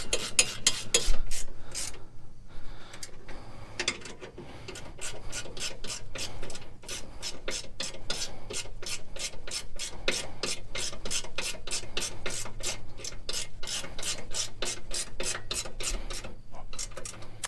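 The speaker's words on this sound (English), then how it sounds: "then you just tighten these down." A ratchet clicks in fast, even bursts while bolts are tightened down on a Husqvarna mower drive during a belt repair, close and steady, with a brief pause early on.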